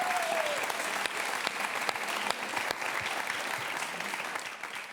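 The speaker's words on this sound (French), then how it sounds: "Ça s'applaudit." Audience applause at a live music show celebrating a band's 25 years, a broad, even wash of many hands clapping at a moderate distance for several seconds.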